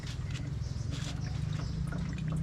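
Freshly distilled arak liquor pours from a still into a funnel, a steady trickling stream with small splashes, close and continuous under a low background hum.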